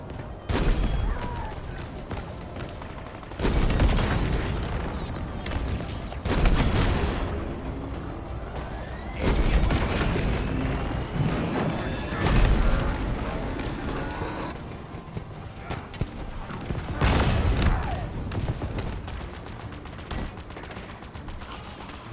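Heavy explosions and gunfire from Halo Infinite combat, several loud booming blasts spaced a few seconds apart over continuous rattling, crackling battle noise.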